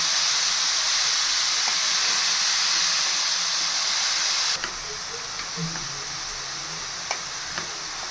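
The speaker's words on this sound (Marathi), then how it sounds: "गाजर टाकून झाल्यानंतर हे हलवायचं आहे." Grated carrots being stirred in hot ghee in a pan for traditional carrot halwa, a steady loud sizzling hiss that drops and softens partway through, with faint scraping ticks of the spoon afterward.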